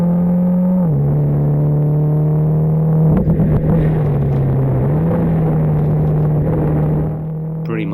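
A Mitsubishi Evo X on a straight at Pembrey Circuit during a sprint race, its engine droning steadily, then stuttering and cutting with rough clattering bursts before the note drops off, loud and close from onboard.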